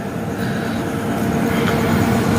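A fully loaded freight train rumbles steadily near Mangaluru railway station, a dense continuous low roar of wagons heard up close with no talk.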